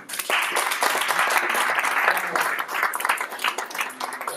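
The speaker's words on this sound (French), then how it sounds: "on peut l'applaudir" An audience applauding a speaker at a talk on messaging technology, a dense burst of many hands clapping that starts abruptly and holds steady and loud for several seconds.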